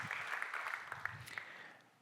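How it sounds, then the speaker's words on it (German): Audience applause after a presentation at a marketing talk, a faint, brief patter of clapping from a crowd that fades within about two seconds. "Applaus"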